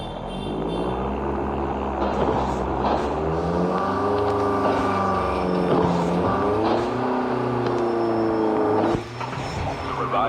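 A vehicle driving in the Call of Duty Mobile battle royale, its engine droning steadily and rising and falling in pitch as it revs, loud and continuous, with a brief dip near the end.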